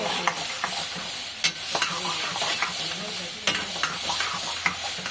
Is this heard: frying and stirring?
yes